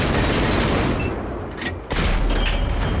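A tank cannon fires in World of Tanks, a loud booming shot that rises sharply near the end over steady engine rumble and battle noise.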